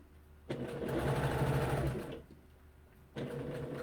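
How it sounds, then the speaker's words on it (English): A sewing machine stitching bias binding to the inside of a shirt neckline runs in two close, steady whirring bursts, the first about one and a half seconds long, then a pause, then it starts again. "we've sewn our bias to the inside of our neckline"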